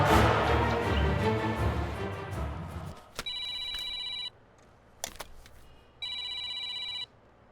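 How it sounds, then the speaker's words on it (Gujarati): A phone line rings on an outgoing call: after a noisy start and a click, two electronic ringback tones sound a second apart with silence between, clear and alone. "હું પીઆઈ જાડેજા સાહેબને ફોન કરી દઉં છું."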